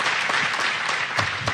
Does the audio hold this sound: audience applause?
yes